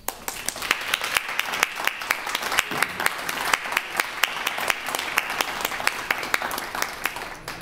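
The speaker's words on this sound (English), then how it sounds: "Please congratulate Sara with your applause." Audience at a human rights awards ceremony applauds an honoree, a sustained, moderately loud round of clapping with crisp individual claps standing out against the steady patter.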